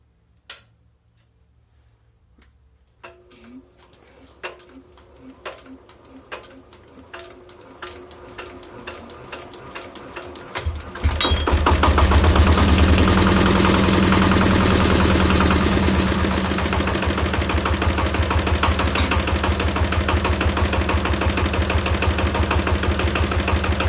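A car engine is cranked during an oil change: about ten seconds of sparse ticking and clicking, then it catches and roars into a loud, steady run with a brief swell of revving.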